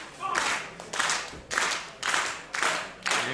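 A wrestling crowd at an open challenge match claps in unison, loud rhythmic bursts about twice a second with roaring cheer between the claps, close and energetic.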